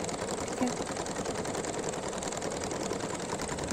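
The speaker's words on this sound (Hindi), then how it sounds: "इसको बड़ी ही नफासत से बिठाते हुए सिलाई करेंगे" A sewing machine stitching a newborn baby's shirt, running in a continuous, fast, even whirr with fine rapid needle ticking, fairly quiet and close, with no talk.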